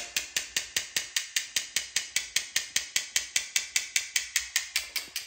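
A Derminator 2.0 microneedling device runs along a hairline, producing a rapid, evenly spaced train of sharp mechanical ticks, close to the microphone and steady for several seconds with no talking.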